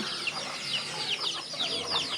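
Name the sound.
chickens clucking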